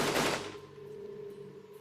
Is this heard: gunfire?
yes